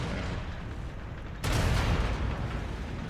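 A single loud tank cannon blast in the video game Tank Company, a sudden heavy boom that lifts an already dense rumbling battle background and lingers without fading.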